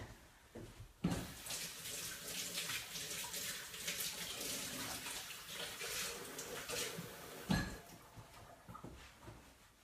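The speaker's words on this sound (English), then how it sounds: "My hands are sticky, so I'm gonna go wash them off real quick." A tap runs steadily with water splashing over sticky hands, a broadband rushing wash lasting several seconds, with a couple of sharper knocks near the start and later.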